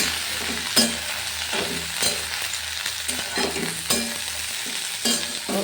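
Beans and steamed potato pieces frying dry in oil without salt, a steady crackling sizzle broken by sharp stirring clatters about once a second.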